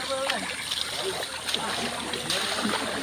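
Water flowing and splashing in an outdoor laundry area at a resort with swimming pools, a steady nearby trickle and splatter running continuously under voices talking.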